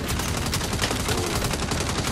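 Gunfire in the Saints Row video game comes as continuous rapid-fire shots, dense and loud, a steady automatic barrage with no pause.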